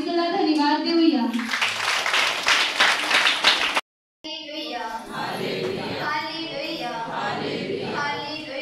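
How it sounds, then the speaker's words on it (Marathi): A church congregation clapping loudly in thanks during a testimony at a worship service, a burst of dense applause between stretches of voices, with a brief dropout midway. "आपण जोरात टाळ्या वाजवून प्रभू येशूला धन्यवाद देऊया"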